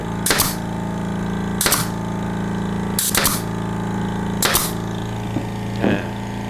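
A Bonchi 1022J pneumatic double-leg nail gun drives nails into wood with four loud, sharp bangs at roughly even intervals, then a softer fifth shot, all over a steady low background hum.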